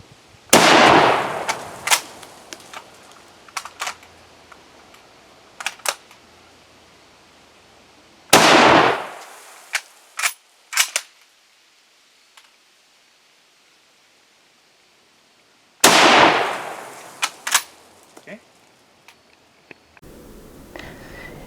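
A Japanese Type 44 Arisaka carbine fired at an outdoor range: three loud, sharp gunshots spaced several seconds apart, each followed by a ringing decay and a few clicks of the bolt being worked, with no talk.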